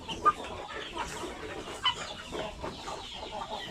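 Chickens cluck and murmur in a busy coop, with a couple of sharper calls standing out over the steady background chatter of the flock.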